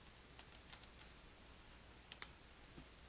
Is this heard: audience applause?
no